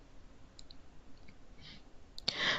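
A computer mouse gives a few faint, sharp clicks in a quiet room, the last one closely followed by a brief brighter burst.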